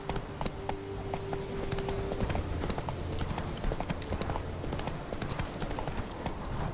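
Steady clip-clop of the horse Roach's hooves in The Witcher 3, a continuous trotting rhythm over game ambience and music, fairly loud throughout.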